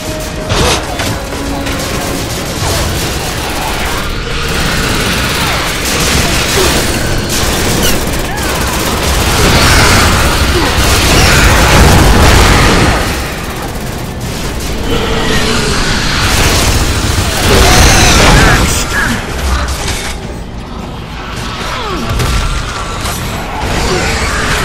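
Rapid turret gunfire and heavy explosions from Gears of War 3 fill a long, dense, loud stretch of combat, with bursts of booms and mechanical clatter continuing throughout, and voices speaking underneath.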